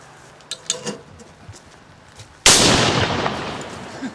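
A ceremonial Böller saluting mortar loaded with powder fires one loud, sharp blast with a long rolling echo after a few faint knocks and rustles.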